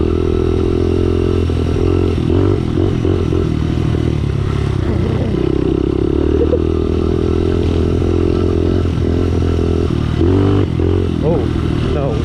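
A pit bike engine drones at a steady mid-pitched idle-to-cruise note, loud and close, with intermittent clatter and scraping over the continuous hum.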